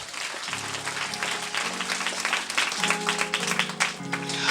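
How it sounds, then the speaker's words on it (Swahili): A church congregation claps together during a worship service, with steady applause filling the space while low sustained music tones sit underneath. "Pigia Yesu makofi mazuri."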